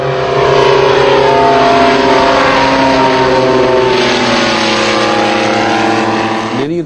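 A vintage airplane engine, a pioneering England-to-South Africa aircraft, roars loudly and steadily with a deep, car-like throbbing tone, then winds up sharply at the end.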